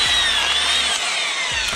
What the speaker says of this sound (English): this drill hammer splitter delivers on both fronts.